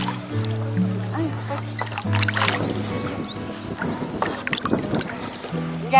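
A wooden rowboat is rowed on the sea off Daedundo, heading out to fish-farm pens with a load aboard. Creaks and water splashes come in irregular strokes close by, under steady background noise and some voices.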